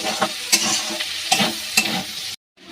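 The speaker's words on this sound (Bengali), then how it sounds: "একসঙ্গেই ভেজে নিচ্ছি।" Vegetables sizzle loudly in a hot pan for chicken chow mein, with several sharp scraping stirs, then the sound cuts off abruptly near the end.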